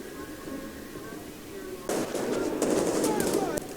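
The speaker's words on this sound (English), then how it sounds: "They're shooting! They're shooting at us!" Gunfire in a TV drama scene erupts after a quiet stretch as a rapid, loud run of sharp crackling shots that continues to the end, with voices under it.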